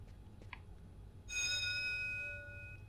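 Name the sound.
alarm bell ringing in the video game Fahrenheit: Indigo Prophecy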